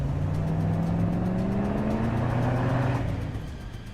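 A car engine revs and climbs in pitch in Girls Frontline 2, a bumper car in the game's scene, loud and steady throughout before easing slightly at the end, with no talk.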